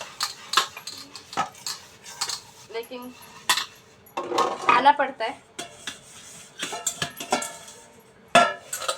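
Dishes being washed by hand in a home kitchen: pots and cutlery clink, clatter and knock in frequent irregular bursts at close range, with someone talking briefly over the washing.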